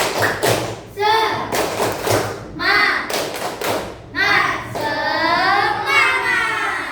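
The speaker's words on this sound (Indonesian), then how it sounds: "Tepuk semangat dulu. Tepuk semangat." Schoolchildren perform a rhythmic cheer clap in class, with bursts of sharp, loud, patterned clapping alternating with chanted voices, close and lively.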